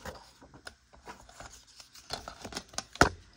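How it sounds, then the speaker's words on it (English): Scissors snipping through paper while trimming a craft tag for a mini album, several short crisp cuts and rustles with one sharper snip near the end, close and fairly quiet. "I'm going to cut it just below the gold."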